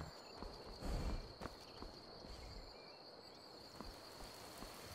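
Horse hooves clip-clop in Skyrim, modded, outside a tavern in the rain, a few soft scattered footfalls over a steady bed of rainfall, one louder thump near the start.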